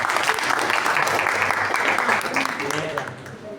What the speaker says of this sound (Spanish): Un aplauso para Darcy.